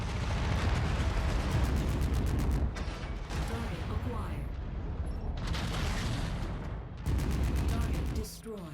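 Missile impact in a combat video game, a heavy booming blast followed by a rolling roar of explosions and gunfire, loud and continuous with brief dips, with a voice talking over it.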